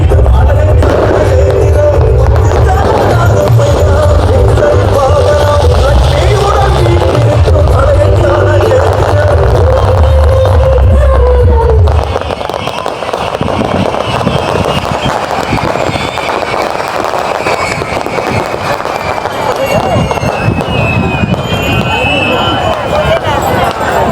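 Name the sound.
fireworks going off at a crowded festival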